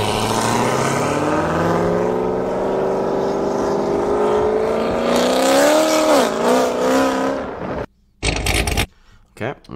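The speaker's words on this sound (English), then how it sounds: "that sounds like a Corvette, all right" A cammed C7 Corvette with an automatic transmission accelerating, its engine note rising steadily through the gears into a loud roar, then cutting off abruptly into choppy bursts from a recorded clip.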